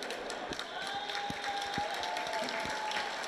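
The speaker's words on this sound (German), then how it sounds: "Ja, jetzt gibt es den großen Jubel" Crowd cheering and applause after the finish of the Hamburg Derby horse race, a broad wash of distant cheers with scattered claps, heard under a commentator's voice.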